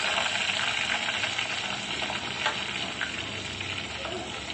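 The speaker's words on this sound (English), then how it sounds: "we will fry it in the same flame for a few seconds" Ground masala and ginger garlic paste frying over a flame, giving a steady, close sizzle with a soft stirring scrape throughout and no talking.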